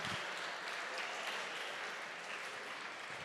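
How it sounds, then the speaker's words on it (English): A summit audience applauds itself, a fairly soft but continuous patter of many hands clapping for a few seconds, heard from some distance with no talking on top. "Can you just give yourself a round of applause?"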